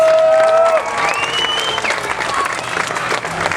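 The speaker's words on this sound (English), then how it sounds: "Give them another round of applause." A crowd applauds at a street fair's opening ceremony, a thick wash of clapping that swells and carries on steadily, with a whistle-like tone and faint voices near the start.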